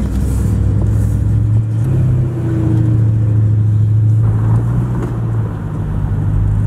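A car with a 440 cast-iron-head engine and 4.30 gears rumbles loudly up close, its deep steady engine note rising in pitch a couple of times as it revs, with no talking.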